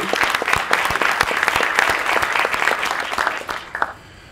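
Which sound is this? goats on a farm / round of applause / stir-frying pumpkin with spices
round of applause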